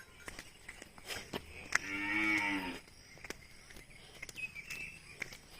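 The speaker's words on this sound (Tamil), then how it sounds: "இவங்க தான் நம்ம மாடு" Cattle on a farm give one clear, sustained moo at close range, with faint insect chirps and small knocks scattered around it.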